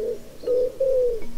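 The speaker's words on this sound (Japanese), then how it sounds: "コモンウッドピジョン" Common wood pigeon cooing, a few soft, low, drawn-out coos close by with nothing else around them.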